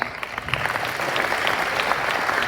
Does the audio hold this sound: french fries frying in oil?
no